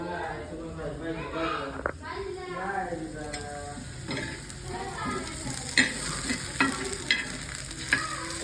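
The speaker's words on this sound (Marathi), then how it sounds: "मी मस्त असे तुपामध्ये बटाट्याचे काप बनवते" Potato slices sizzle steadily as they fry in ghee, with stirring scrapes and clicks of a utensil against the pan. A voice talks over the cooking.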